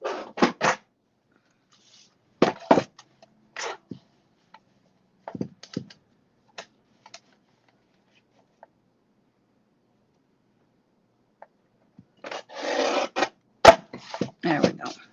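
Scissors cut in short, separated snips to trim a sliver of gray card paper hanging over the edge of a pop-up door card, with a denser burst of cutting near the end and quiet gaps between.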